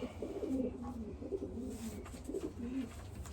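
A racing pigeon hen coos softly in a few low, burbling phrases, fairly quiet and close, with no talking.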